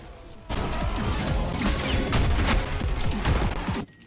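Rapid bursts of gunfire from the fast-paced shooter game Ultrakill, loud and dense for about three seconds of overlapping shots and impacts, with no talking.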